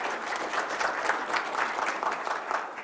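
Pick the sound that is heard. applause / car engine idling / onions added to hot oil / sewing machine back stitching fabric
applause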